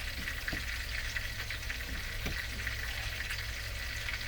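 Cod fillet frying in a thick layer of coconut oil in a pan, a steady close hiss of sizzling with small crackles and pops of spattering oil throughout, no voices.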